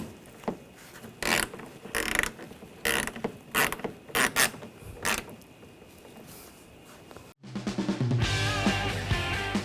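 Ratchet wrench clicking as bumper bolts are snugged down on a 2007-2013 BMW X5, bursts of close mechanical ratcheting separated by pauses, ending in a louder, denser stretch of clattering.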